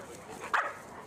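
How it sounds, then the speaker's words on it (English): A small dog gives a single short, sharp yip at a Rottweiler, brief and fairly close against a quiet background. "So my little dog is trying to get Bex away from her because she knows she's trying to nip her."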